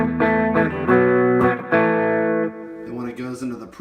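An electric guitar plays through the red distortion channel of a Blackstar amp, sounding out crunchy, sustained chords and notes in a short riff phrase. The tone is loud and close.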